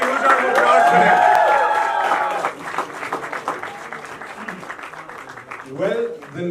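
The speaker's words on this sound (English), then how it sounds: "Can we have a huge round of applause for them?" An audience at a music video launch applauds and cheers for the singers, first under a loud overlapping voice and then as a thinner spread of clapping with crowd noise, before talk resumes.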